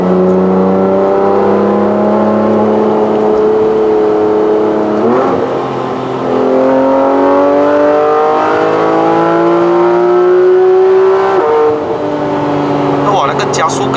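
A 2015 Porsche 911 GT3 RS with a PDK gearbox accelerates hard on a Malaysian road, engine pitch climbing in repeated rising sweeps through quick gear changes, loud and close from inside the cabin, with a voice speaking over it.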